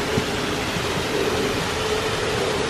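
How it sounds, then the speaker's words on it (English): Steady broadband rush of a waterfall in a hotel garden in Hakone, Japan, continuous and even throughout, with a faint low hum underneath and no talk. "Beautiful waterfall."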